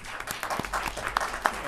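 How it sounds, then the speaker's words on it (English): A round of applause for the chairperson at a county board of commissioners meeting, a short stretch of scattered clapping from the room with faint background chatter. "give her a round of applause, please"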